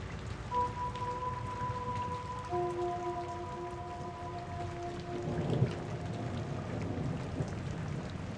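Steady rain falls in a soft, even hiss with a low rumble underneath, and some faint drawn-out tones drift through the middle.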